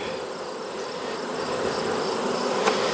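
A dense, steady buzz of many honey bees close by, a continuous humming drone with no voices.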